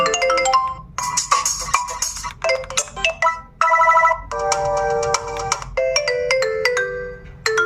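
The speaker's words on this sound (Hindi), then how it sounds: "रिंगटोन इसमें सेट है ऑलरेडी, ये वाली" A melodic built-in ringtone on a Jio Phone Prima 4G feature phone plays clearly, bright synthesized notes in quick repeating phrases over a faint background hum.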